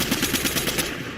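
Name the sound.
SMG gunfire in a video game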